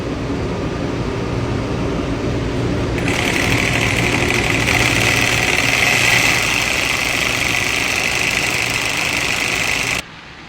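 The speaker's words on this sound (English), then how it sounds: "Sitting there just gunning it, spinning the tires, burning the engine out of it." Vehicle engine at a construction site being gunned hard, a steady loud roar with a rising whine and rough grinding as the tires spin in place, sustained for about ten seconds before cutting off abruptly.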